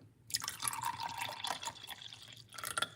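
Water poured into a glass while making lime drink, a steady close splashing trickle that runs for a couple of seconds, pauses briefly, then resumes.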